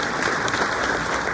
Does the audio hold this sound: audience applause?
yes